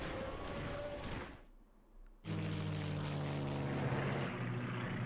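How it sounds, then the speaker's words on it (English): Propeller warplanes moving in the World War II strategy game Strategic Command: WWII, a loud droning engine hum with steady tones that cuts out into near silence, then returns at full strength, with no talk. "Planes moving around."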